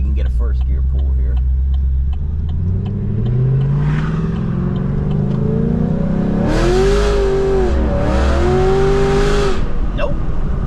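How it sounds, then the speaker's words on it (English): A Chevy SS with an LSA engine accelerates hard in first gear, a loud low rumble climbing in pitch, with engine tones rising and dipping around a shift, heard from inside the car with a person talking. "Try to see if we can get a first gear pull here."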